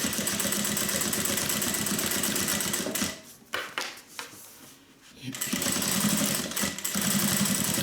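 Sewing machine running a straight seam on a sling bag, loud steady rapid stitching that pauses briefly midway while the needle stays down and the fabric pivots, then resumes at full speed.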